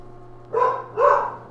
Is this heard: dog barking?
yes